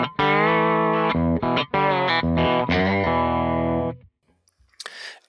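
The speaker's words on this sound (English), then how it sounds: "So I have here the Tweet Deluxe amp, and it's cranked a little bit." Slide guitar played through a cranked Tweed Deluxe amp profile on a Kemper, loud sustained gliding notes with a slightly gritty, distorted edge, ringing alone for about four seconds before cutting off, then a brief noisy burst.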